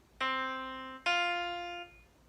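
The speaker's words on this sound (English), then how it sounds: "Now the next interval is called a fourth, and it sounds like this." Two clear sustained notes sounded in turn, the second a fourth above the first, each ringing evenly and fading slightly, close and alone without speech.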